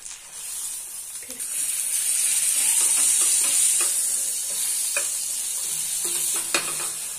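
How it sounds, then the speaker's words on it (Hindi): Bread slices dipped for eggless French toast fry in melted butter in a pan, a loud steady close hiss and sizzle that swells early and holds, with a few light taps of a utensil. "अब हम इस ब्रेड को मेल्टेड बटर में डाल देंगे और 2 मिनट तक इसी तरीके से"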